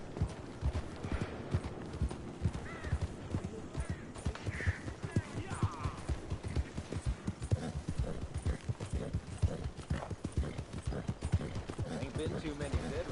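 Steady clip-clop of horse hooves at a walking rhythm in the video game Red Dead Redemption 2, close and continuous, with a brief whinny in the middle.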